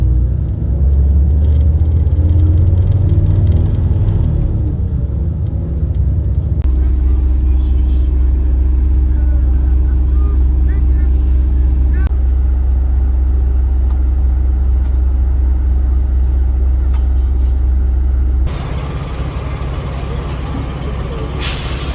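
A long-distance bus in Kazakhstan rolls along with a loud, steady low engine rumble, shifts its drone partway through, then stops with a sharper hiss near the end.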